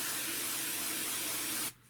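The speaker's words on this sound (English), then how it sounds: "I'm just going to spray this down just a little bit." A spray bottle mists water onto the bedding of a 10-gallon worm bin, a close, steady hiss of continuous spraying that cuts off abruptly near the end.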